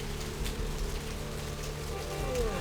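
Rain falling steadily in Vampire: The Masquerade – Bloodlines, a soft continuous hiss of drops on pavement, faint and even throughout, with a low hum beneath and no talk.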